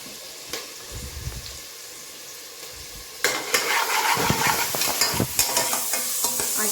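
Green chillies and two large onions cut medium frying in a pan, a low sizzle with faint stirring that jumps to a louder, busier hiss and scraping clatter partway through; no talking.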